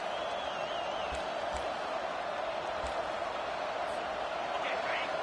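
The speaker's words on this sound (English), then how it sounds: "This crowd bringing the energy and noise early" Steady stadium crowd roar from the video game NCAA 25 fills the air as a continuous wash, with faint whoops and thuds poking through and a broadcast-style voice talking over it.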